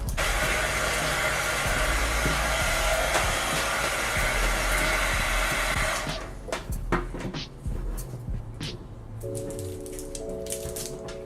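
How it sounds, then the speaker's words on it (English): A heat gun blows a loud, steady hiss and whir for about six seconds while sealing candles, then cuts off, leaving soft handling clicks and rustles with a faint tone near the end. "So now the candles are heat sealed"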